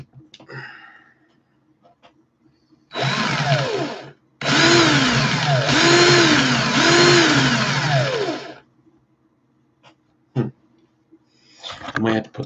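A power drill set to slow speed runs in two loud bursts, a short whir and then a longer one that rises and dips in pitch, with quiet handling noises and clicks around them.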